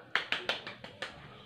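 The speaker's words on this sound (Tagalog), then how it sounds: "Palakpakan natin ang unang grupo. Bigyan natin sila ng tumataginting na palakpak." Children in a classroom clapping in a short burst of about six sharp, fairly evenly spaced claps, moderately loud and close, with no talk over them.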